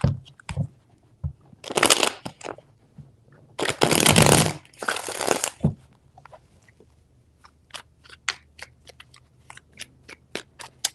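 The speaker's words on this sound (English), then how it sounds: "3 shuffles." A tarot deck is shuffled up close in a few crisp riffling bursts, the longest near the middle, followed by a string of light ticks and taps as the cards are handled.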